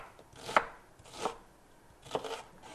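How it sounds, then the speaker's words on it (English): A knife dices an onion on a cutting board, giving three crisp chopping knocks at an uneven pace, close and clear with no talking. "all you have to do is just sort of bring your knife from front to back, and then it'll make the dice for you"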